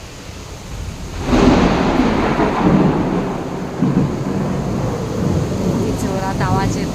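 Heavy monsoon rain pours down outside a home with thunder, a dense, steady roar that swells after the first second and holds loud and close to the end.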